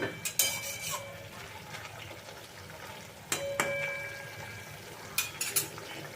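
Pumpkin greens mixture stirred in a pan with sugar and some water, giving soft scraping and clinks of a utensil against the pan in a few short bursts over a quiet kitchen background.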